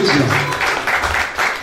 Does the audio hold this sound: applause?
yes